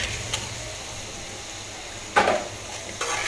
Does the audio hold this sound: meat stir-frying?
yes